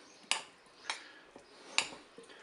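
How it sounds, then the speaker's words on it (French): Pasta salad with tomatoes, gruyère and ham being mixed in a salad bowl: a few quiet scraping clinks of a utensil against the bowl, spaced irregularly, with no talk. "Je vais commencer à mélanger un petit peu déjà."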